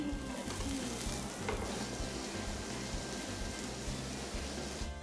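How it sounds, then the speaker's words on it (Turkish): Fish fries in a pan over high heat in a Trabzon kitchen after being turned to cook the other side. A dense, steady sizzle holds at an even level throughout, close and with no talk. "diğer tarafını da kızartıyor"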